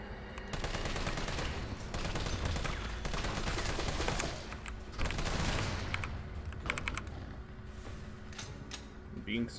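Dense rapid gunfire from an assault rifle in Resident Evil 3 rattles in sustained bursts, loud and close, with a voice speaking over the shooting.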